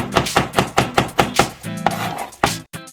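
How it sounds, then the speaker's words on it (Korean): A knife slices garlic into thin pieces on a cutting board, a quick even run of about a dozen close, crisp chopping knocks, then a brief pause before a final few cuts, with no talk. "마늘은 어, 꽁지를 자르고요. 편으로 썰어줍니다."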